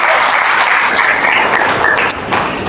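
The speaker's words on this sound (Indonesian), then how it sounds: "Tepuk tangan sama Tuhan kita." A church congregation applauds during a sermon on family life, a dense, steady wash of clapping from many hands that holds for about three seconds and thins slightly near the end, with no talk over it.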